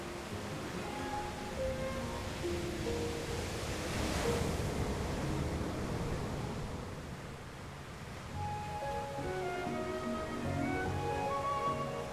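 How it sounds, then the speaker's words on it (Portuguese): Ocean surf rolls onto the shore in a continuous broad wash. The roar swells and eases as waves break and draw back, with some wind noise and no voices. "rolando agora para dentro da água, absorvidos no empuxo insaciável da saia das espumas."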